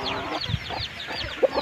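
Young chicks peeping in short, high, falling chirps close by, with a few lower clucking notes from poultry mixed in.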